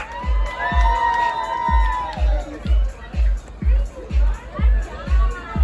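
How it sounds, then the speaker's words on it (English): A children's Halloween costume contest for ages four to five, where the crowd cheers, whoops and claps in rhythmic bursts while an announcer's voice and children's shouts sound over the noise. "One more time, round of applause, please, round of applause."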